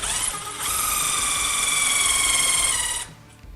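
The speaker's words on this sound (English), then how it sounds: "So we're just gonna pre-drill a hole." A drill runs at a steady high-pitched whine for about two and a half seconds as it pre-drills a hole in a shop wall, then stops abruptly.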